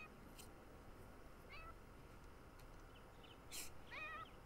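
Cat meowing in a video game, a few faint high chirping meows over a low steady ambient hum.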